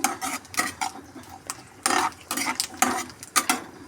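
Garlic being stirred and sautéed in sesame oil for a pickle, heard as irregular metal-on-pan scrapes and clinks from a spoon against the pot, close and fairly loud, with no voices.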